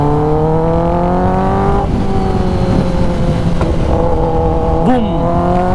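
A Kawasaki ZX10R motorcycle engine holds a loud, steady high rev on launch control, with the pitch dipping and shifting a few times, close by and continuous.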